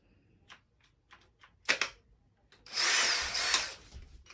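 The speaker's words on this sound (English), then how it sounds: "I'll probably use a size half inch spade bit. It'll be thick enough to be able to push the cable through." A power drill fitted with a half-inch spade bit bores a hole for rerouting coax cable, starting with short taps and clicks before a sustained grinding burst of roughly a second and a half, close and fairly quiet.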